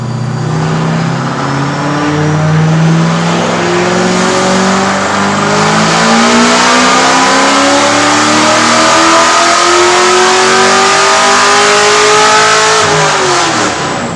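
A nitrous-equipped race car accelerates hard and long, its engine note climbing steadily through the gears in one loud, sustained rising roar before dipping at the end, with nobody talking.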